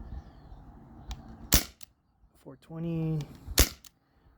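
A modified Umarex Brodax BB revolver powered by a 12 gram CO2 cartridge fires two sharp, loud cracks about two seconds apart, with someone speaking a short number between them.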